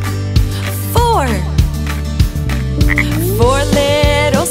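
Green speckled frogs croak in a children's nursery-rhyme song, with repeated loud ribbits over a steady musical backing throughout.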